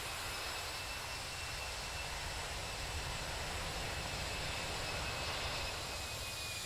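Airliner jet engines roaring in reverse thrust on landing in the X-Plane 11 flight simulator, an A319, as a steady, broad, continuous rumble and hiss with no talk.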